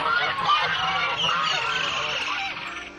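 Ducks honk and quack in a steady noisy chorus, close and continuous, with faint voices underneath.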